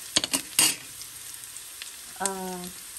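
Onions and garlic sizzle in a pan for pork ribs caldereta. A few close stirring knocks open the clip, then a steady crackle carries on, with a brief hum near the end.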